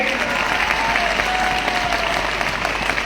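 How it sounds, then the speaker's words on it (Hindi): Dense, steady applause from a large audience at an IMC network-marketing business seminar in India, loud and sustained throughout with faint whoops or voices blended in. "तो तालियां होनी चाहिए एक बार एक ऐसी इंडस्ट्री के लिए"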